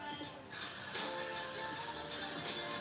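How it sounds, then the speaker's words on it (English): A short spray burst onto hair: a soft hiss from a spray bottle that becomes a loud, sustained misting whoosh lasting a couple of seconds. "And I'm going to spray it too, y'all."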